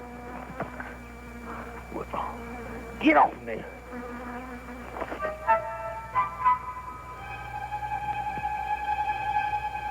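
A bee buzzes close around a face as honeycomb is taken outdoors. Its whine wavers, rising and falling, and someone briefly shouts over it.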